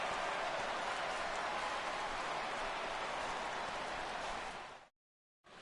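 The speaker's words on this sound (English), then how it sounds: "this home crowd likely to give him a standing O as he departs with the shutout in check" A home crowd gives a standing ovation in MLB The Show 16, a dense, continuous roar of clapping filling the stadium for several seconds before cutting off abruptly.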